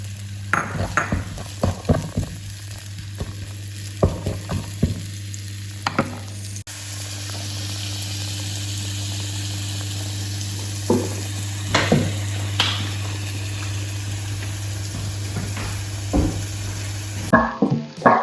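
Finely grated ginger fries in a pan for a vegetable jalfrezi with paneer, giving a steady sizzle throughout with occasional spoon stirs and light clinks against the pan.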